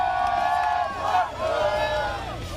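Football supporters gathered at an airport to greet the Corinthians women's team after a Supercopa do Brasil, a dense crowd roaring and chanting continuously at steady loudness, with voices rising and falling in sung waves.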